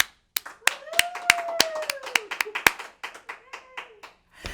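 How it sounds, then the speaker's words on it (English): Sparse, uneven hand claps from a few people joining a virtual leadership luncheon, close and individual with a faint gliding tone underneath, tapering off near the end. "Let's all take a second for a big virtual applause."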